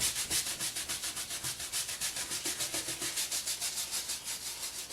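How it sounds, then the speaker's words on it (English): A paintbrush scrubs paint left to right onto a mountain landscape painting, giving a close, steady run of quick rhythmic bristle strokes with no talking. "I'm just kind of scrubbing this in there, but I'm going left to right"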